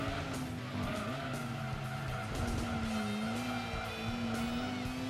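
Chevrolet Corvette in Gran Turismo 2 tearing through the Seattle city section, a steady engine drone with tire squeal and skidding running continuously throughout, loud and close.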